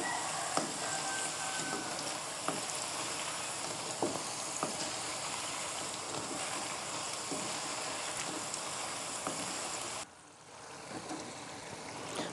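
Tofu and tapioca snack pieces frying in hot oil, a steady dense sizzle with scattered pops and crackles throughout, briefly dropping in intensity near the end.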